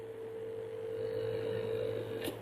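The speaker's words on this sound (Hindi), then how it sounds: "ये पंप की साउंड में एक वाइब्रेशन है।" An aquarium air pump with a blue nozzle loading it gives off a steady, even hum with a buzzing vibration, held close and unbroken, with a brief click near the end and no talking.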